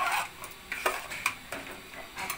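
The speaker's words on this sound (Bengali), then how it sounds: "মিশিয়ে দিয়ে এটাকে খুব ভালো করে নেড়ে দিচ্ছি।" Spoon stirring ground spices such as cumin and turmeric into a cooking mixture for a Karnataka recipe, giving light, near scraping clinks against the pot in an uneven rhythm of about five strokes, with no talk.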